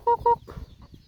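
Chickens and a brood of about twenty-one chicks cluck near a rubbish heap, two quick bright calls followed by softer low clucks, close and brief with no talking.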